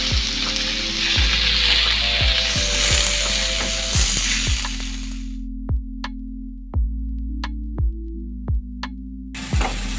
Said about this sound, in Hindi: टमाटो और चिली को अच्छे से फ्राई करेंगे।